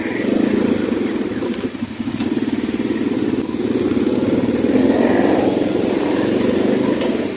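A motorcycle rides along on the way to a barangay hall in Belen, Calabanga, its engine droning loud and steady throughout with faint wind and road noise and no talk.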